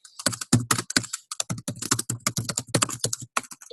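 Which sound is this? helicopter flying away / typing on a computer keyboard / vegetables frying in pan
typing on a computer keyboard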